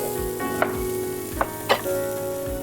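Chickpea chicken salad cooking in a pan on medium-high heat gives a steady sizzle, with a few soft knocks and scrapes of stirring close by and no talk.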